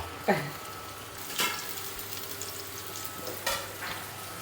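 Onions sauté and sizzle in hot oil with a soft, continuous frying hiss close by, broken by a few brief scraping stirs of a spoon in the pan.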